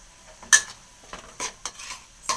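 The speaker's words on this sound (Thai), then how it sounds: "เคี่ยวให้น้ำซอสมันงวดนะ" A spoon scrapes and stirs chili sauce simmering in a pan for Thai-style fried rice vermicelli, giving several sharp, separate scraping strokes over a quiet background with no talk.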